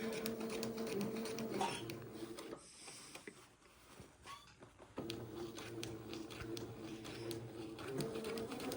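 Sewing machine running slowly along a seam, a steady mechanical whir with a brief pause midway before stitching resumes at the same even pace.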